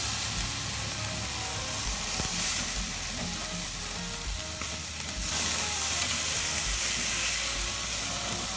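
Carne asada skirt steak sears on a grill with a loud, continuous close sizzle and hiss. The sound stays dense and steady throughout, with faint occasional shifts and no speech.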